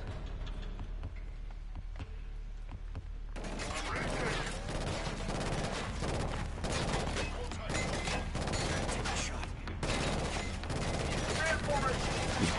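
Gunfire in the video game Killzone: Shadow Fall, bursts of rapid automatic shots with quieter game sounds under them for a few seconds, then near-continuous loud firing with brief gaps.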